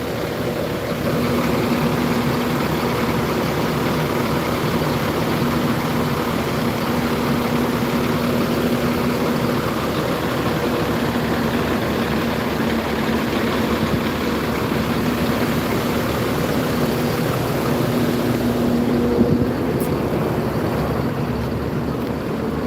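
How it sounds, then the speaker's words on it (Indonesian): A large diesel bus engine, a Golden Dragon, idles steadily and loudly nearby at a bus terminal, a constant low rumble with a faint whine, no voices. "ini bunyi mesin dari, kalau tidak salah, Golden Dragon ya, yang dimiliki NPM"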